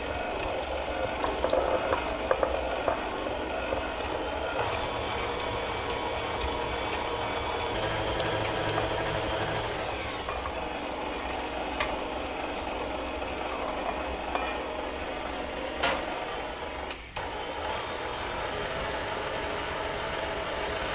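A kitchen stand mixer runs on low, beating chocolate chip cookie dough as eggs go in one at a time, giving a steady mechanical whir and rattle that carries on throughout.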